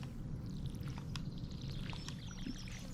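Watering can pouring over crops in the Stardew Valley video game, a soft continuous trickling splash under light background game ambience, steady and fairly quiet.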